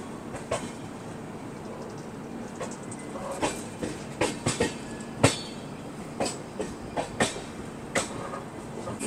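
Duronto Express pulling out of Ratlam Junction, heard from inside as a low rumble punctuated by irregular metallic clacks and knocks from the wheels, fairly quiet with no talking.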